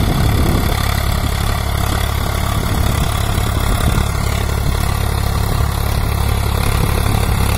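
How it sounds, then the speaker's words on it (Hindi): A Swaraj 744 XT tractor engine runs at a steady idle, a loud, continuous low rumble with no change in pace and no voices. "अभी इस ट्रैक्टर की जो आवाज़ है"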